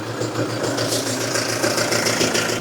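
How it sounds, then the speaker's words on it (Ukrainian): A farm tractor fitted with a loader idles with a rough, rattling engine, a steady rhythmic chugging and metallic vibration close by, with no talk over it. "Глуши його, наверно. Хай не дерчить."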